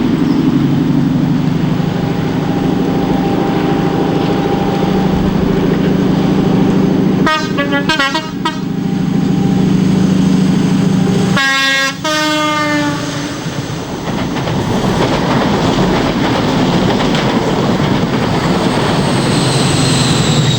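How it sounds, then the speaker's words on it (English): A diesel high-speed train roars steadily as it climbs Dainton Bank in Devon on a rainy day, its engine droning loud and close, with two bursts of a two-tone horn sounding midway. "It's a rainy day in Devon, but the train makes light work of the dreaded Dainton Bank."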